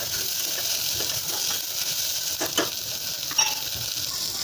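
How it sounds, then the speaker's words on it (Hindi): Chopped vegetables and peas frying in a pan for a winter bajra khichdi, a steady broadband sizzle with a few soft scraping stirs, close and continuous, with no talking. "अभी हम अपनी सारी वेजिटेबल्स जो हमने काट के रखी हैं वो डाल देंगे, हमारी मटर भी डाल देंगे और सब्जियों को थोड़ी देर फ्राई होने देंगे"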